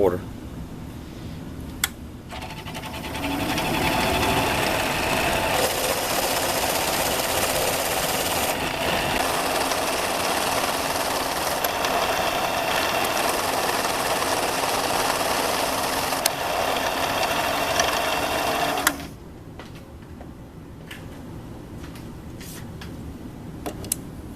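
A metal lathe turning an aluminum faceplate makes a steady cutting whine and motor drone for about sixteen seconds, then drops abruptly to a quieter hum, with a voice faintly present.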